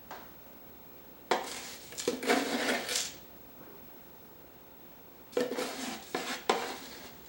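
A spoon scrapes and clinks against a bowl while scooping out the last of an ingredient for no-bake chocolate oatmeal cookies, in two short close bursts of metallic scraping and taps with a quiet gap between.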